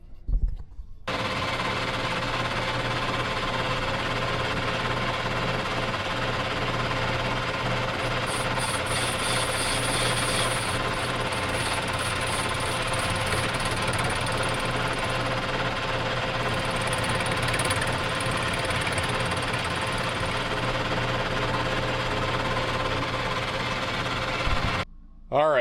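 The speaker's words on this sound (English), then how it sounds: "I do need to stick this in the lathe quick just to do a little clearance, just to clear these bolt heads" A lathe machines clearance into a part for a 1977 Yamaha TX340 grass drag snowmobile, cutting bolt-head and flange clearance with a loud, steady, rattling mechanical whir that runs continuously for the whole stretch before stopping abruptly.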